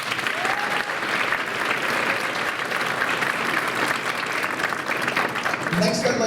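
A school winter band concert audience claps steadily and densely throughout, a sustained wash of applause with a few voices briefly audible near the end.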